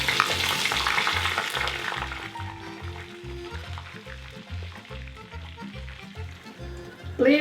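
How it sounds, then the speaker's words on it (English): Breadcrumbed calamari rings frying in hot oil for fish and chips, a loud, steady crackling sizzle that eases off gradually, with soft bubbling pulses underneath. "I'll fry the fish in the same oil, the calamari ring, but this already breadcrumb."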